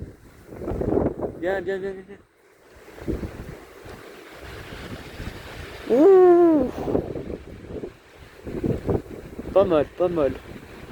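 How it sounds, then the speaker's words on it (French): Strong east wind buffets the microphone with steady roaring gusts over water, while people talk and exclaim briefly. "C'est rare d'avoir un vent d'est qui souffle aussi fort."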